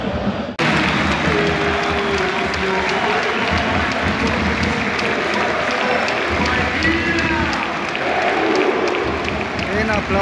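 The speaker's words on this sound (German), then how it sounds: "Den Applaus hat er nicht verdient." A sold-out crowd of about 30,000 claps and murmurs in a football stadium, a loud continuous roar of applause and crowd noise with voices mixed in and occasional whistles rising over it.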